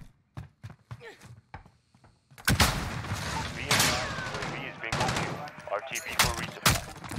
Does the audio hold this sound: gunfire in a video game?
yes